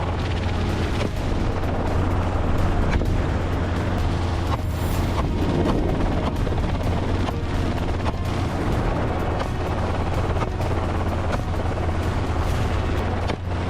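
Dense, continuous rumble of heavy gunfire from a helicopter shooting feral hogs, with repeated booms and sharp bursts over a steady low helicopter drone, loud and unbroken throughout.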